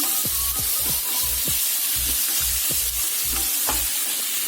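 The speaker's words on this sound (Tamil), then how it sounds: "பூண்டும் வெங்காயமும் வதங்கியாச்சு" Ground garlic and onion sautéing in a pan, a steady loud sizzle with repeated rhythmic scraping stirs about twice a second, no voices.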